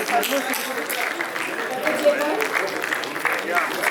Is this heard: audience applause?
yes